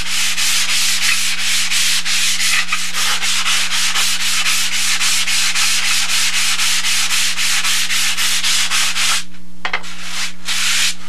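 A T-bar sanding block scrapes along a foam model airplane wing core in quick, even back-and-forth strokes, close and loud, with a short pause near the end.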